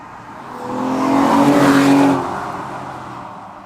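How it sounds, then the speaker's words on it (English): The naturally aspirated V12 of an Aston Martin DB9 swells loudly, rising to a sustained roar and then easing off, with no talk over it. "you're driving a naturally aspirated V12"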